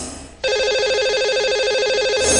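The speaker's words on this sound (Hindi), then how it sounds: "तो कॉल मिलाते हैं उनसे" Telephone ringing as a radio show dials a lucky caller, a bright warbling electronic ring that starts abruptly after a short lull and continues steadily, loud and close.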